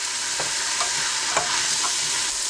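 Celery and onions sauté in a pan over medium-high heat, hissing with a constant close sizzle, broken by a few soft scrapes of stirring.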